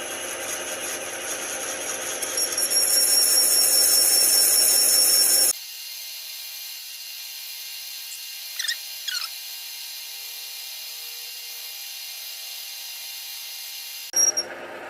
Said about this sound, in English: using the mill fine feed to actually drill down